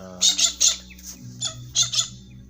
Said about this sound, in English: you can see or hear the birds in here